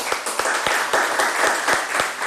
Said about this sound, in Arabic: تصفيقة بربي على جعفر هذا